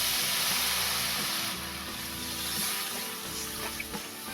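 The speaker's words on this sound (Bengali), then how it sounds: "পরিমাণ মতো পানি দিয়ে দেব।" Water is poured into a hot pan of spiced oil while cooking a pangas fish curry, making a continuous close hiss and bubbling sizzle that eases slightly midway, with no voices.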